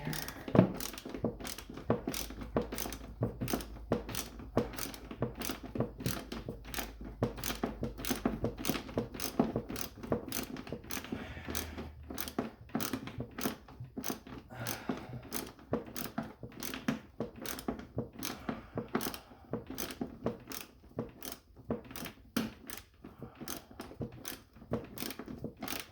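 Ratchet wrench loosening suspension bolts on an Arctic Cat ZR 800 snowmobile, a long run of rapid, evenly spaced clicks repeating steadily at close range, with faint shop noise underneath.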